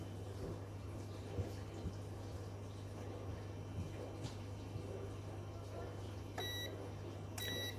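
A bread machine finishing its bake gives a short run of clear electronic beeps near the end, over a steady low hum and faint kitchen room noise.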